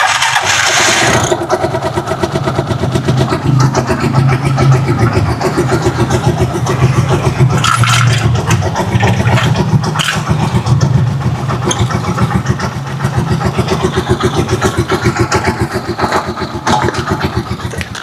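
A Rusi Chariot 175 motorcycle engine just serviced with fresh Castrol oil cranks and catches after a brief sputter, then settles into a loud, close, rapid steady idle.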